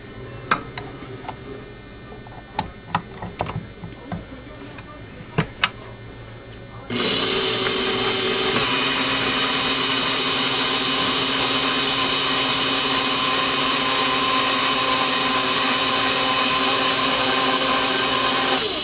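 Stand mixer starts at about seven seconds and runs steadily and loudly to the end, kneading a shaggy bread dough of roughly five to six cups of flour, after a few quiet clinks and knocks.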